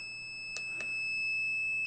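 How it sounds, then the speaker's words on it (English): A small electronic buzzer driven by a Heltec Wi-Fi LoRa 32 relay receiver gives a steady, thin, high-pitched tone that holds for the full stretch, with two faint clicks near the start. "the buzzer will turn on like that"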